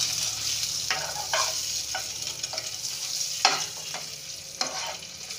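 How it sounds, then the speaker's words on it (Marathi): Eggs fry in a little oil in a pan for an egg masala curry, giving a soft steady sizzle. A spatula scrapes and stirs in several distinct strokes, with no one talking. "इथे अंडे फ्राय झालेले आहेत पॅनवरच असे भाजून घ्यायचे थोड्याशा तेलामध्ये"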